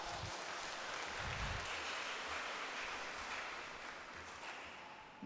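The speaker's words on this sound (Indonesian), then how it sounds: "Tepuk tangan untuk kedua imam kita." Congregation applauding two priests at a Catholic thanksgiving mass at the Santa Maria Assumpta parish in Kota Baru Kupang; steady, broad clapping from a large crowd fills the space throughout, slowly easing toward the end.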